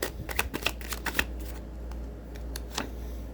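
Tarot cards being shuffled and drawn, a run of quick papery riffles and flicks close up, clustered in bursts with a few sharper snaps, over a low steady hum and no talking.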